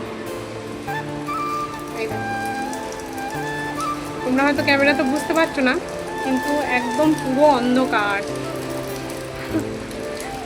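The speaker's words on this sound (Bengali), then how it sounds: "মানে এত বৃষ্টি হচ্ছে, চারিদিকটা পুরো গুটগুটে অন্ধকার হয়ে গেছে।" Heavy daytime rain pours outside, a steady broad hiss running under a person talking, with faint tonal background sounds.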